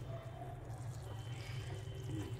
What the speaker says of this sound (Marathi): आता यामध्ये आपण जे पाणी मगाशी उकळायला ठेवलं होतं ते घालून घेणार आहोत